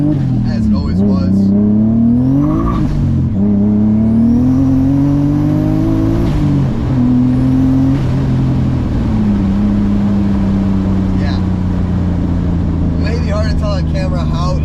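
Turbocharged BMW E34 making 560 wheel horsepower accelerating hard, its engine note climbing steadily through the gears in loud, continuous drones with shift breaks, heard from inside the car.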